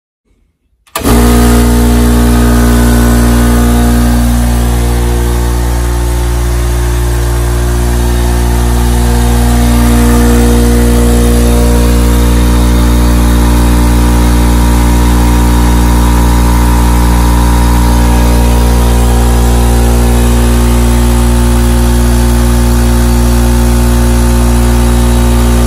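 A Porter Cable air compressor starts after a moment of silence and then runs steadily and loudly while filling with air, its motor drone holding an even, unbroken hum with strong low tonal bands.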